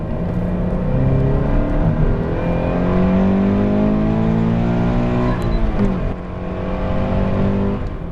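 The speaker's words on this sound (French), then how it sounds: "Le moteur commence à chanter un petit peu au-delà de 5000 tours minute." A Toyota GT86 flat-four engine revs upward past 5000 rpm under acceleration, its steady rising drone climbing in pitch, briefly dipping at a gear change, then pulling again, heard from inside the car with no talking.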